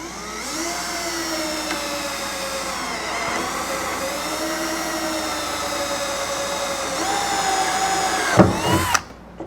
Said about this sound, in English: I drill a hole through the center of the spot weld